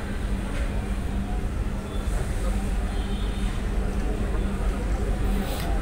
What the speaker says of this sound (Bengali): রেলটি ছেড়ে দিয়েছে।